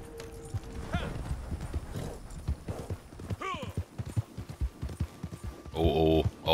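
Rapid clip-clop hoofbeats of a galloping horse in the video game Red Dead Redemption 2 Online run throughout, with a couple of whinnies and a denser rumbling burst near the end.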